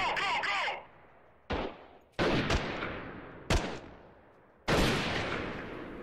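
Gunshots in the video game Freeman: Guerrilla Warfare: four sharp, loud reports spaced a second or so apart, each ringing off in a long echoing tail, with a short burst of other noise before the first shot.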